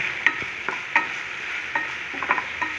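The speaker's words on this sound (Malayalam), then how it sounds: "ആവശ്യത്തിന് ഉപ്പും കൂടി ഇട്ട് നല്ലപോലെ ഒന്ന് നമുക്ക് ഇളക്കി കൊടുക്കാം." Chopped carrot and salt being stirred in a cooking pot, with several light scraping clinks of the spoon against the pot over a soft steady sizzle, close and moderately loud, with no voices.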